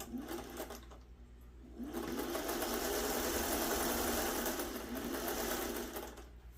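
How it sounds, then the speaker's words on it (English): A new sewing machine runs in steady stitching bursts while piecing a quilt block, a brief pause, then a longer continuous whirring run up close. "Still getting to know my new sewing machine here"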